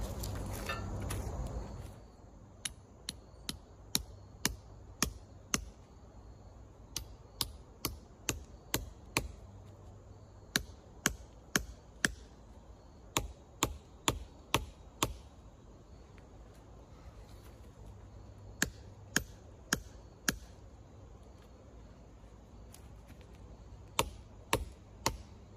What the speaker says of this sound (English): I think it's a 3-pound sledgehammer.